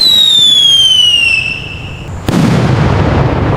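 A firecracker lit in a forest whistles loudly with a falling pitch, goes briefly quiet, then bursts with a single sharp bang followed by a rushing hiss.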